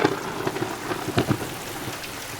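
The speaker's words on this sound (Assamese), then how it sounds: "বৰষুণ আহিল।" Rain falling during a thunderstorm in Guwahati, a steady hiss of drops on surfaces with low rumbles of thunder swelling and fading underneath, no voices present.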